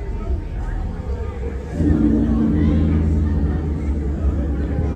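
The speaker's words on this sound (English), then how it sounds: "A few jacked up trucks rolling through late at night." Several lifted, jacked-up trucks roll past on a downtown Sarasota street late at night, a loud, close engine rumble swelling about two seconds in and holding steady amid background street noise.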